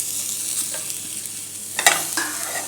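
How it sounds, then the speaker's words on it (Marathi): Tomatoes sauté with onion and dry coconut in a pan for Kolhapuri misal masala, making a soft continuous sizzle broken by a few sharp spatula scrapes and clinks near the end. "टोमॅटोही ह्याच्याबरोबर व्यवस्थित परतून घेऊया"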